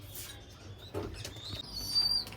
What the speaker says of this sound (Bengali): চলো আগে ফার্স্টে পায়রাগুলোকে খেতে দিয়ে নিই